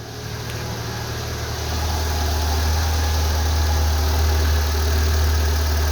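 A BYD F3 car engine runs just after starting, giving a steady, fairly loud low idle hum that rises slightly and then holds even, with no voices over it.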